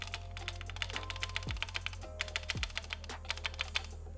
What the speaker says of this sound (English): Here's a quick sound test of the spacebar with the PCB in the case.